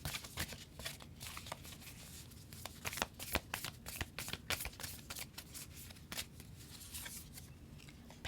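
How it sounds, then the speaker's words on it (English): A deck of oracle cards is shuffled close up with soft, irregular riffles and slaps, quiet and unhurried, with nobody talking over it. "let's pull a card from the Lover's Oracle and see what the overall message is"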